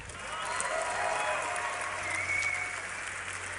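A live crowd at a League of Legends esports match at DreamHack Winter 2012 gives a sustained burst of cheering and applause, a broad roar that stays loud throughout, then eases slightly toward the end.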